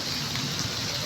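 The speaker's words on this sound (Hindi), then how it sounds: "ये बारिश हो रही है।" Heavy rain pours down in a dense, continuous hiss, loud and close, with no voices.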